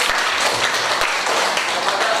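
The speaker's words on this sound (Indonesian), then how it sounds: "kita kasih tepuk tangan" Students in a classroom give a short burst of applause, a loud, close patter of many hands clapping together without pause.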